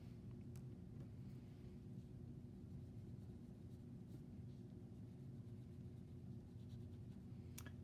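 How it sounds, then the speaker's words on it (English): Red colored pencil shading in a drawing of Little Red Riding Hood's cape, a soft continuous scratching of lead on paper with a few sharper strokes, faint and close over a low background rumble. "So I would color in the shape of her red cape using red."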